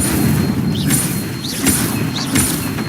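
An Incendio fire spell is cast three times in Hogwarts Legacy, each a quick rising whoosh with a sharp burst, heard over a steady, dense rumble of game sound.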